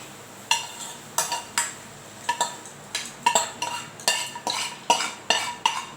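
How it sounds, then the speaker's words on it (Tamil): Chopped onions are tipped into dosa batter and worked in a bowl, producing repeated close clinks and scraping knocks of utensil against vessel in an uneven rhythm. "இப்போ இந்த மாவு எடுத்து இந்த வெங்காயத்தை எடுத்து மாவில் நான் கொட்டிக்கிறேன்"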